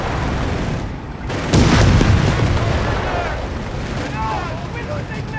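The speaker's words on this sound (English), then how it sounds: "Italian self-propelled gun deploying." An Italian self-propelled gun firing in Company of Heroes 3 on a North African battlefield, one heavy booming blast near the start that rolls into a rumbling tail, with battle noise and voices talking over it.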